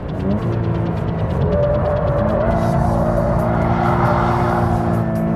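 A sports car driven hard through corners, sliding sideways: a loud, close engine note climbs steadily in pitch under sustained throttle, with a constant rush of road and wind noise.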